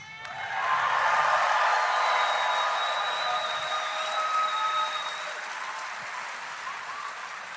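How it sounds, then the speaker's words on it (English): A large crowd at a Brooklyn College event applauds for Luis, a dense wash of clapping that swells in the first second, holds strong, then slowly tapers, with faint cheers mixed in and no talk. "Can we hear a round of applause for Luis?"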